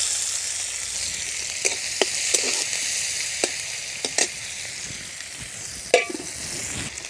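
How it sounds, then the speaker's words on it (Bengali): Onion, crushed garlic and dry chilli fry in a pan. A steady soft sizzle is broken by a few sharp clicks and scrapes of stirring, with no voices. "পেঁয়াজ রসুনটা ভাজা হয়ে গেছে।"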